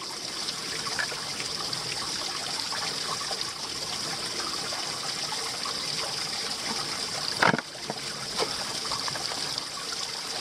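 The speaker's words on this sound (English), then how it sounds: "I can fill this bag up and I'll take the straw off too." Steady close trickle and gurgle of stream water running into a 1 litre water bag during a wild camping walk, continuous and moderately loud, with one brief splash or knock midway.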